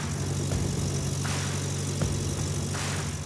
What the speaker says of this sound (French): Le son qui sort du Farmall claironne dans tout l'atelier.